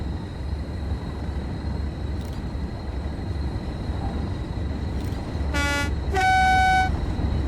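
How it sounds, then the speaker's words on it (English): High-pitched train horn in Train Sim World 3 on the Tees Valley Line, two short bright blasts near the end over a steady cab rumble and engine drone. "Horn's a little wacky. High horn at least."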